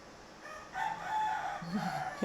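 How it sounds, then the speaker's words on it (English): A rooster crows in drawn-out, wavering calls, fairly close and clear against a quiet background, with no talking. "this wonderful rooster joy is happening right in our meditation Reiki time"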